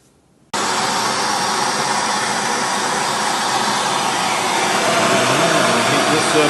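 A heat gun blows hot air onto an antique carpenter's wooden tool box built by hand, warming its brass hardware; a loud, steady roar of air starts abruptly after a brief quiet moment and runs on without talk.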